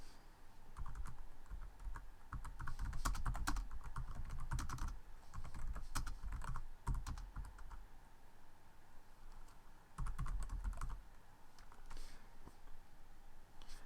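Fingers type steadily on a computer keyboard, giving a close run of rapid key clicks in bursts with short pauses between them.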